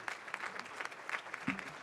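A crowd at a peace-builder awards event applauds its youth poets, with many hands clapping at a steady, moderate level and a few sharper claps standing out nearby.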